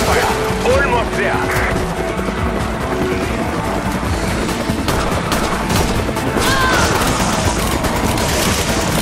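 Gunfire in the video game Resident Evil 5 crackles in dense bursts over a busy mix of game noises, with talking heard over the shooting.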